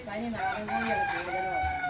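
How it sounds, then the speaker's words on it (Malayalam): A native rooster crows loudly and close, one long drawn-out call with rising and falling tones, with faint clucking from other hens underneath. "നാടൻ കോഴി മാത്രമാണ്"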